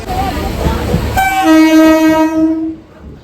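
Commuter train pulls in at Kanchrapara railway station, a loud rumble of wheels giving way to a long blaring horn blast that fades out near the end.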